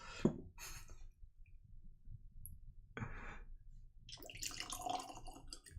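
Whisky trickles from a bottle fitted with a pouring cap, coming out in a few short, uneven splashes and drips separated by quiet gaps, with a longer, busier pour near the end.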